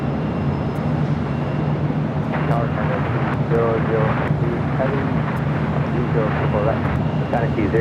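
An EVA Air airliner lands at Los Angeles International Airport, its engines a broad, steady distant roar, with talking and radio chatter running over it throughout.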